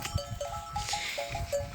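Sheep bleat repeatedly from a nearby flock, a series of short wavering cries spaced through the moment over faint farmyard background.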